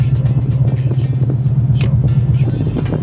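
A Ford Mustang engine fires up and settles into a steady, loud low rumble close by, idling evenly throughout.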